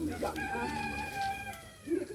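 A rooster crows nearby, one long drawn-out call with a voice murmuring underneath and a clucking sound at the end.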